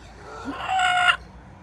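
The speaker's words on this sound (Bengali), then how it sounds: "এই যে এখানে আম্মুর রাতা মুরগি" A rooster crows once, loud and close, in a short rising call with a faint cluck just before it, then falls silent.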